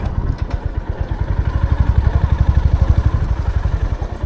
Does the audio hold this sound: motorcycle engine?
yes